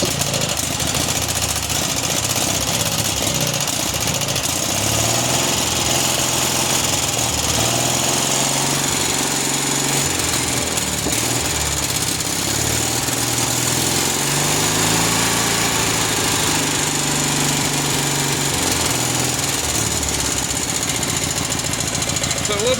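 A Cub Cadet 1811 garden tractor with an M18 engine, in need of carburetor work, runs steadily close by with a rough, chugging small-engine drone and wavering pitch, loud and continuous for the whole stretch.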